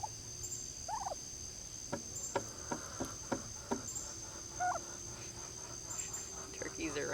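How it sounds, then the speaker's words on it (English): Turkeys gobble faintly in the distance among steady insect buzz on a homestead farm, with a series of sharp clicks or taps nearby and brief chirping calls. "Turkeys are right by the camera."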